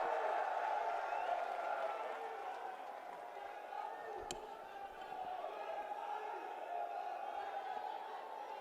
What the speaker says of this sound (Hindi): जोरदार तालियों से स्वागत कीजिए प्रियंका गांधी वाड्रा जी का।